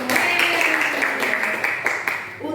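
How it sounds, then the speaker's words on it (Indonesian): A classroom of students claps together in a short burst of applause, with voices mixed in, fading out after a couple of seconds. "Kita beri tepuk tangan untuk kita semua."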